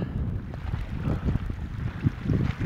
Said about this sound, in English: It's very windy, very cold now, wet.